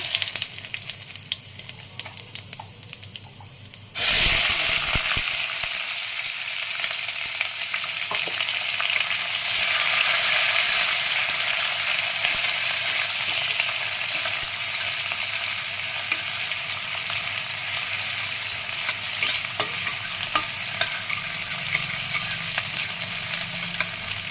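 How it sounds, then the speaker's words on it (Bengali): Whole cumin seeds and bay leaf hit hot oil left over from frying spiny gourd, giving a sudden loud sizzle that settles into a steady, crackling fry with faint stirring, close by and with no talk. "এবার এই কাঁকরোল ভাজার তেলেই আমি এখানে ফোড়ন দিয়ে দেব"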